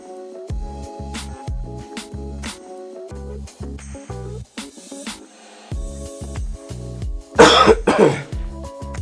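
A person coughs repeatedly in short bursts, close and loud, over a rhythmic music track, with a harsher cough cluster near the end.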